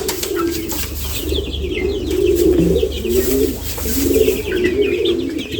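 Pigeons in a loft coo in repeated low, soft rolling phrases, several birds overlapping close by, with faint chirps and a brief flutter in the background.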